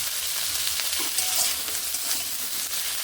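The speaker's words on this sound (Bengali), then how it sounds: "নুন মিশিয়ে নেড়ে নিচ্ছি একটুখানি হলুদ গুঁড়ো দিয়ে দিলাম ভেজে নিচ্ছি" Vegetable scraps with salt and turmeric frying in a pan, a dense continuous sizzle with occasional soft stirring scrapes, close and even in loudness, with no voices.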